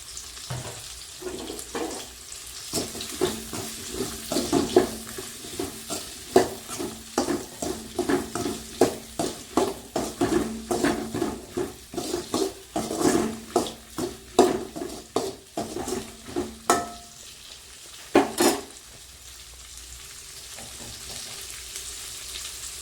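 Curry leaves crackle and sizzle as they hit hot oil in a frying Tamil-style goat mutton gravy, with steady stirring scrapes and clinks of a spoon against the pot.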